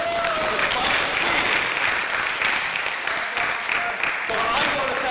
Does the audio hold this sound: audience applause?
yes